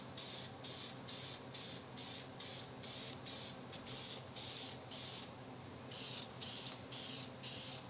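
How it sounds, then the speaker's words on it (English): Aerosol spray painting of wheel center caps with bright white paint, heard as a rhythmic run of short hissing bursts about twice a second with one longer spray near the end, close and steady. "set each of the center caps up over here once I degrease them, and we're going to start spraying those"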